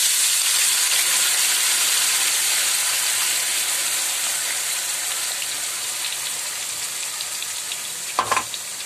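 Ground masala paste made for white pea misal sizzles loudly and steadily in hot oil, a dense close frying hiss that eases slightly over time, ending with a brief clatter.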